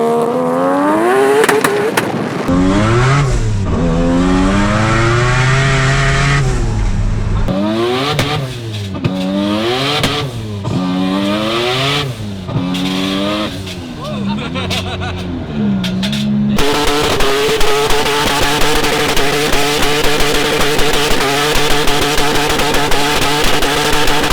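A twin-turbo Mazda RX-7 FC with a rotary engine revs hard and loud, climbing through rising gear pulls with sharp drops between shifts, then settles into a steady, raspy drone with crackles while driving.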